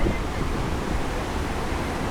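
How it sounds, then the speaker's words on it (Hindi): The rushing confluence of the Dhauliganga and Alaknanda rivers on a mountain trail near Badrinath gives a loud, unbroken roar of churning water with wind buffeting the microphone. "दो नदियों का संगम हो रहा है, धौली गंगा और अलकनंदा नदी।"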